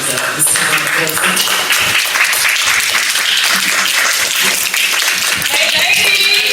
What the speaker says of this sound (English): y'all give this woman a round of applause as she comes up